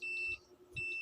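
A CCTV camera under repair emits two short, bright electronic beeps about half a second apart, close and clear over a faint low hum.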